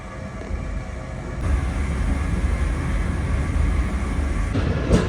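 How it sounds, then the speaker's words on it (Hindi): A Pakistan Railways passenger train approaching Multan Cantt station, heard from on board: a steady low rumble of wheels and carriages that swells after the first second and holds loud, with a brief rattle near the end. "1:38 पर हमारी ट्रेन अप्रोच बना रही है मुल्तान कैंट रेलवे स्टेशन पर"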